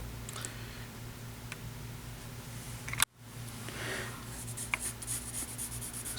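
A pencil scratches and rubs on paper while a comic figure is sketched, with soft continuous strokes, a few sharp ticks and a brief pause midway, close and quiet with no talking.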